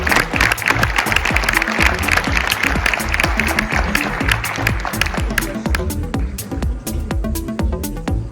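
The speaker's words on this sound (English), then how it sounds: "Can we give a nice round of applause for the panel?" A conference audience applauds a climate action panel, dense steady clapping filling the room and thinning toward the end.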